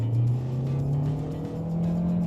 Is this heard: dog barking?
no